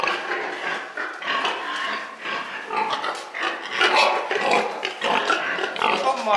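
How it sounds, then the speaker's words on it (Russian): F1 Yorkshire-Landrace crossbred pigs in a farm pen grunt and squeal continuously, close up and fairly loud, with overlapping snorts from several animals. "А вот наши свинки."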